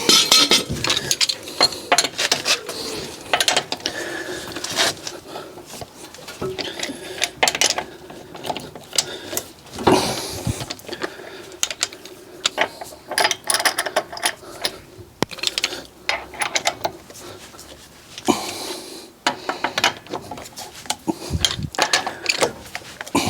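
Ratchet wrench clicking in irregular bursts while checking the wheel nuts on a crash-damaged Fiat 500, with metallic clinks and pawl rattles close by and no talk.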